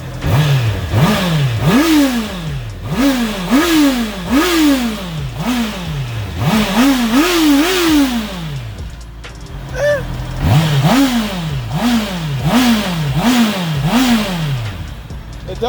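A Honda CBR650R engine with an upgraded air filter revs repeatedly, rising and falling in quick bursts, with a short idle pause partway through; loud and close.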